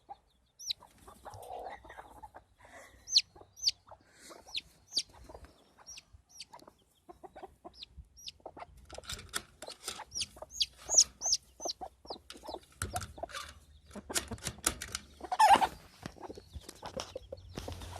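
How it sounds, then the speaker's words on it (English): Chickens cluck and chatter softly in a quiet yard, short clucks coming in bursts, some overlapping, with occasional faint rustles. "Here's some chickens."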